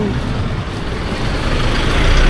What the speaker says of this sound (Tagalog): may truck pa rin po nakadaan. Malakas.